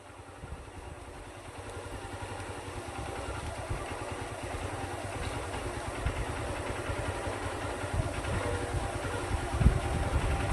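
A motorcycle rumbles steadily in first gear as the clutch is eased out slowly, the low engine throb building a little over about ten seconds, fairly close with light mechanical clatter and no talk.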